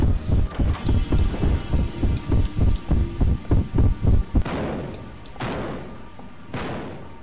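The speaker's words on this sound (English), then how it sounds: "Slam that door." Doors slamming in a Roblox game: a rapid series of about a dozen loud, evenly spaced thuds, followed by softer whooshing, windy noise with a couple of fainter knocks.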